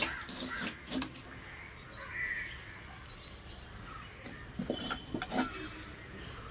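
Crows caw in a few harsh bursts, a pair early and a cluster later, somewhat distant over steady outdoor ambience.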